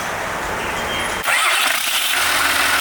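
An Isuzu 6BG1 turbo diesel engine cranks and catches, then settles into a loud, rough running rumble.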